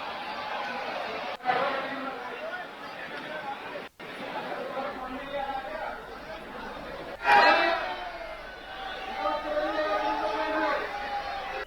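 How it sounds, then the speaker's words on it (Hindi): A temple crowd at Banke Bihari during Holi shouting devotional chants in unison, repeated bursts of massed voices with chatter between them, some cries louder and closer. "मंदिर परिसर बांके बिहारी लाल की जय और होली है के जय घोष से गूंज उठा"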